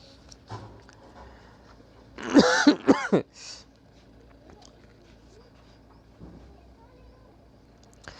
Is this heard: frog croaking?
no